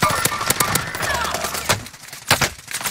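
Gunfire in Call of Duty Warzone, with the KG-M40 rifle, comes as a rapid string of loud, close shots in a fast rhythm, then a short pause and a few more cracks.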